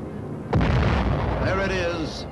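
A radio-guided aerial bomb strikes its target in wartime film footage: a sudden loud blast erupts, then a heavy sustained rumble with a faint rising whistle-like tone as the explosion rolls on.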